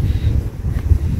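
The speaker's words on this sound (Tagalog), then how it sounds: "O yan, mahangin po." On a hot day outdoors, wind buffets the microphone in low, gusty rumbles that pulse unevenly through the short stretch, with no clear voices over it.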